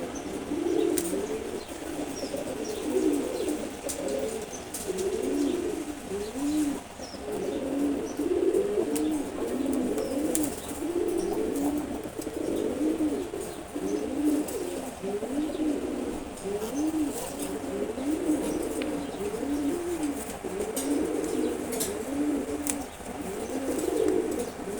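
A pair of silver Gorra pigeons coo repeatedly in soft, rolling phrases, close by and moderately loud, with faint chirps and a few wing flaps in the background.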